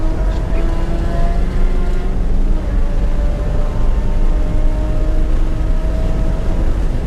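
A car lapping Watkins Glen during a track day approaches turn one and brakes, its engine droning loud and steady from inside the cabin throughout with a broad rumble of road and wind noise.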